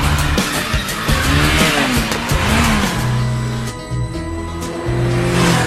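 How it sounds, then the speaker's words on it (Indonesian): A stolen police motorcycle speeds away in a film scene, with loud, sustained engine roar, revving and tire-squeal-like screeches heard throughout over a dense, busy soundtrack. "akhirnya mengebut ke rumah Epe"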